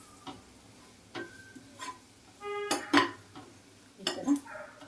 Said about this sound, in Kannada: ಈ ಥರ ಫ್ರೈ ಮಾಡ್ಕೋಬೇಕು